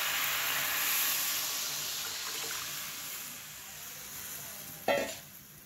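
Vegetables fry in oil with a steady, quiet sizzle. Near the end, boiled dal is poured in, making a sudden brief splash and hiss over the frying.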